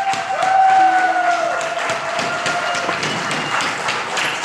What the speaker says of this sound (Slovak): takže tiež veľký potlesk pre nich